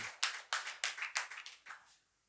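A short run of about seven crisp, evenly spaced hand claps from a small audience at a devotional discourse on the Dnyaneshwari, fading out after two seconds.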